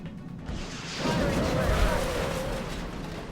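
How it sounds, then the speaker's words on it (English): A rocket fired in the XCOM video game detonates with a heavy, rumbling blast that swells after a brief lead-in and rolls on for a couple of seconds before slowly fading. "Fire the rocket!"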